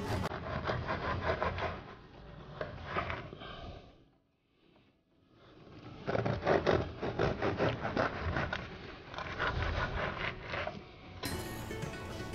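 A bread knife saws a thick slice of bread on a board, giving close, loud rasping back-and-forth strokes with a brief quiet gap midway before the sawing resumes.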